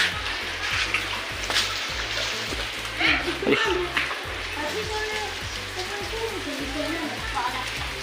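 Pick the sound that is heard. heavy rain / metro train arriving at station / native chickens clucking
heavy rain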